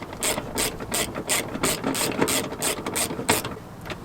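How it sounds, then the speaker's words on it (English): A ratchet wrench clicks steadily and close-up as a bolt is backed out on a Chrysler 300 SRT, giving a fast run of even ratcheting clicks in a regular rhythm, with no talk. "Take that bolt out."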